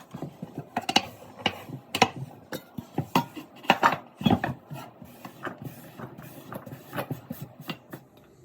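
Potatoes tumble and clatter into a bowl for rinsing, with a series of sharp, irregular knocks and clinks against the bowl that cluster in bursts, close by with no talk.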